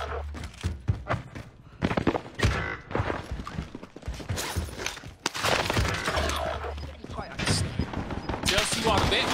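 Gunfire in a shooter video game, with dense bursts of shots and sharp cracks that come in clusters and build toward steady rapid fire, mixed with game effects and players talking over it.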